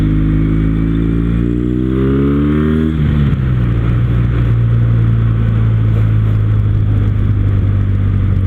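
A Kawasaki W800 cafe racer motorcycle rides on a road, its engine note rising through revs before a gear change, then settling into a steady, loud drone close to the microphone.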